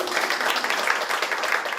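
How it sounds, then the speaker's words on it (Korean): Audience applause at a Seoul city policy debate on a Green New Deal, welcoming a special committee chair to the podium; steady, dense clapping from a room of people throughout. "박수로 모시겠습니다"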